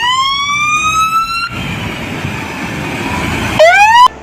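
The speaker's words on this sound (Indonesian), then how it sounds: "Yang ini ada truk pemadam kebakaran." A toy fire truck siren wails in rising electronic sweeps, broken by a harsh rustling scrape in the middle before the siren returns briefly, close and fairly loud.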